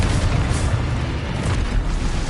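Confringo blasting spell explosion in the Hogwarts Legacy video game, a dense, booming rumble that stays loud and steady for a couple of seconds without any speech.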